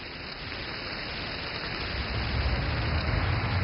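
Rain falls steadily on a dam construction site, a continuous even hiss with a low rumble that grows slightly louder toward the end.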